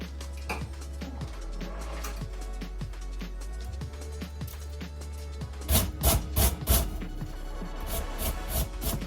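Carrots being scraped on a compact military-style grater, a steady close rasping rub with rhythmic strokes, growing louder and more percussive toward the end, with low background hum.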